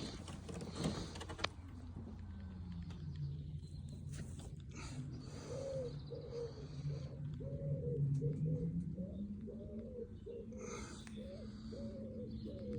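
Racing pigeons coo in a steady series of soft, low, throaty, repeated calls that swell and fade, with a brief rustle and a few chirps near the start.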